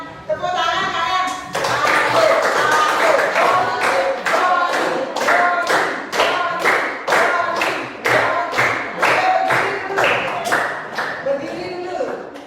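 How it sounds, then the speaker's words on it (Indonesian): A university audience in Denpasar claims hands in a loud, steady rhythm of sharp, evenly spaced claps after a short lead-in, with voices talking faintly beneath. "Tepuk tangan kalian."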